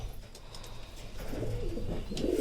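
Pigeons coo softly at close range, with low rounded calls growing a little fuller toward the end against quiet background noise.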